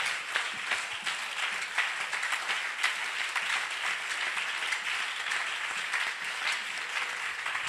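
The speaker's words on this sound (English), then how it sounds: "Are you clapping these hands?" A church congregation applauds continuously, many hands clapping in a steady, moderately distant patter without any clear speech.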